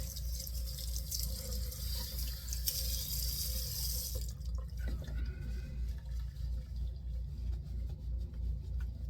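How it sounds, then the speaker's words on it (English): Tap water runs steadily into a sink as alum is rinsed off a freshly shaved face, a continuous close splashing flow that thins out partway through. "Get the alum washed off here."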